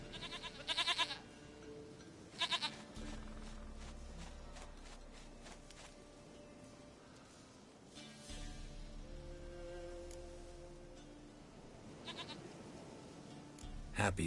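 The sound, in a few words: goat bleating in The Witcher 3 video game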